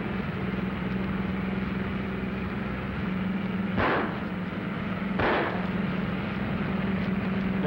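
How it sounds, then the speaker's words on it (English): Two sharp gunshots fired at a car during a chase in a 1940 movie, standing out over a steady engine drone with no talking. "They're shooting."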